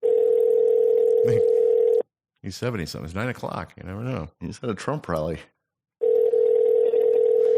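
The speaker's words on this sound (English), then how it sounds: "It's ringing." Ringback tone of an outgoing phone call, a steady loud tone sounding alone at the start, broken by a stretch of several people talking, then returning unchanged at the end.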